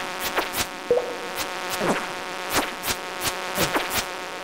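Buzzing insects in Stardew Valley hum steadily, with repeated short clicks and chirpy game sound effects popping up over the drone at a regular pace.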